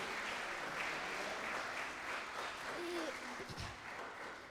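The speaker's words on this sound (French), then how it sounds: "on les applaudit très fort" Audience at a children's travel-journal prize ceremony applauds the young winners, soft steady clapping heard from a distance with a few low thumps near the end.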